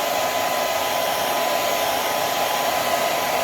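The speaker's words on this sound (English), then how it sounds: "Alright, so we'll take the hair dryer." A handheld hair dryer blows continuously and loudly at close range, a steady whooshing roar with no pauses and no talking.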